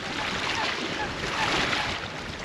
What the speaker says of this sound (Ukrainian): Хвиля шатає, як бачите, не слабо.